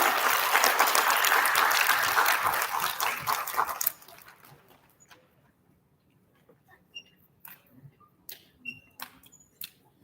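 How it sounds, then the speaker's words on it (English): Dense applause from a school audience at an elementary student recognition ceremony fills the first four seconds, then stops abruptly, leaving a quiet room with scattered small knocks and shuffles. "can we give a nice big round of applause for our special area course?"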